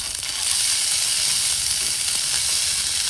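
Ginger, green chili and cumin paste with turmeric frying in hot oil in a pan: a loud, steady, close sizzle that swells after a brief start and holds without a break.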